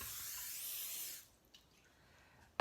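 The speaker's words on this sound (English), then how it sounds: "I'm going to spray the pan just lightly with a little bit of cooking spray" Cooking spray hisses from an aerosol can into a glass cake pan, a single close, bright burst lasting about a second, then quiet with a faint clink at the end.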